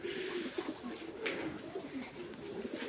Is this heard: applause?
no